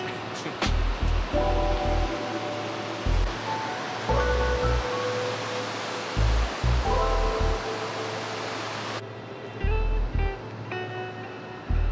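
Ocean surf on a huge beach on Vancouver Island, a steady broad wash of breaking waves with heavy low rumbling gusts of wind buffeting the microphone at intervals, no talking.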